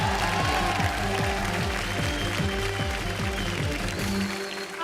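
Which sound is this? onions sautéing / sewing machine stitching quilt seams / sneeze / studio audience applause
studio audience applause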